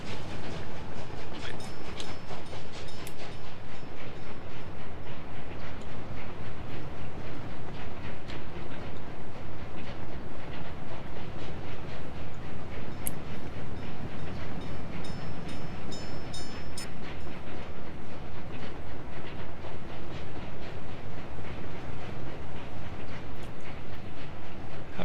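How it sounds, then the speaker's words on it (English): Train riding on rails in the Workers & Resources video game, a continuous rumbling rolling sound with rhythmic wheel clatter and occasional metallic squeaks, steady and close throughout with no talk. "haven't gone on a wee ride for a while on our trains."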